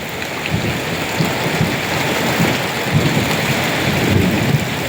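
Steady heavy rain pours down during a storm in Nakhon Phanom, Thailand, soaking trees and papaya plants, with low thunder rumbling repeatedly underneath the constant hiss of the downpour.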